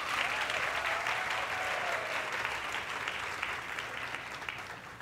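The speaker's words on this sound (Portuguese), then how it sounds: "Vamos aplaudir o pessoal do SENAC de Copacabana." Sustained applause from a large audience, steady and full for the whole stretch, gradually easing slightly toward the end.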